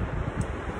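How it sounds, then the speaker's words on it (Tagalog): Strong wind blows outdoors in Norway, a dense, continuous low rushing roar buffeting close to the microphone for under a second, with no voices. "Pero yung hangin talaga yung malakas."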